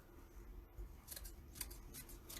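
Scissors cut through wreath material in a handful of crisp snips, quiet and close with a low background hum and no talking.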